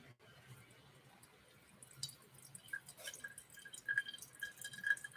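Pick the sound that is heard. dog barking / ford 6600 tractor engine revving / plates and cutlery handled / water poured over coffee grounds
water poured over coffee grounds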